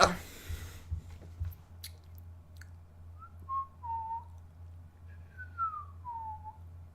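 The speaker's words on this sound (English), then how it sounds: "I can do this neat humming whistle thing" A person produces a humming whistle while a video game loads, with wavering, sliding tones that come in short phrases over a steady low background hum.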